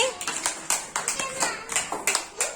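Young kindergarten children in a government school classroom clap together, a brisk run of about a dozen close, bright hand claps in an uneven rhythm.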